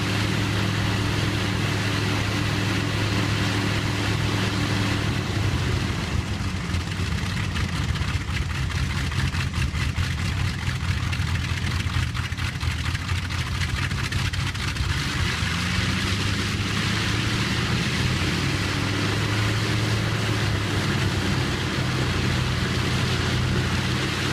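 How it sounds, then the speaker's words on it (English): A WWII Halifax bomber radial aircraft engine runs at West Ring, a loud, continuous low rumble with steady droning harmonics that shift slightly in pitch partway through. "When the engine roared to life on West Ring"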